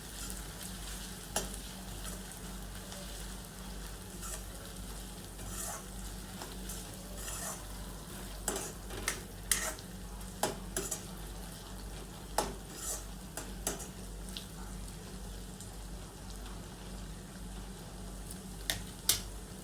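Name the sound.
ginger garlic chili paste frying in oil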